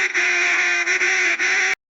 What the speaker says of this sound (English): That is unequivocally a duck quacking